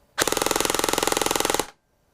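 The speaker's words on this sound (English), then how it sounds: "this is our unported cylinder shooting through a 200 millimeter barrel" Airsoft AEG with an unported cylinder and a 200 mm barrel fires a rapid full-auto burst of about twenty evenly spaced mechanical cracks, loud and close, lasting roughly a second and a half before stopping abruptly.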